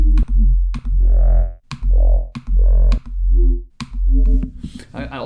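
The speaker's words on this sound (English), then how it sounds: "Again, some more kind of ghostly wubs." Ghostly wub bass synth for a UK garage track, a run of short pulsing bass hits with wobbling filtered tones between sharp transient clicks, loud and alone in a choppy rhythm.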